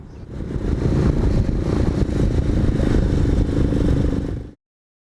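A chain-drive 1983 Yamaha Virago XV920 cafe racer motorcycle engine runs loud and close with a rough, throaty rumble and mechanical clatter, holding steady for over four seconds before cutting off abruptly into silence.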